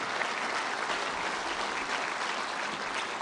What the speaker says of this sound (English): Applause for Prime Minister Meloni.